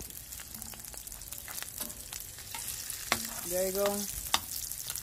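Chicken quesadilla sizzling and frying in a pan, a steady crackling hiss with scattered pops and a few sharp clatters as it is flipped; a voice speaks briefly in the middle.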